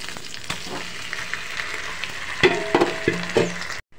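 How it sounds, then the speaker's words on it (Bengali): Pieces of pangas fish dropped into a pan of hot oil with fried onion and garlic, a steady close sizzle with a few sharper crackles and stirring knocks toward the end before cutting off. "তো এখন এই মাছগুলো সব ভাজা পেঁয়াজ রসুনের মধ্যে দিয়ে দেব"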